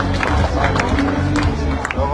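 A crowd at a political rally claps and cheers in a dense, continuous wash of applause and babble, with voices mixed throughout.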